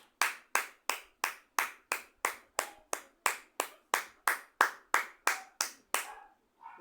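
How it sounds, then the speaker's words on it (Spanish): Rhythmic hand clapping at a church service, about twenty sharp, evenly spaced claps in a steady beat, close and clear, then stopping. "vamos a darle el aplauso de victoria al Señor"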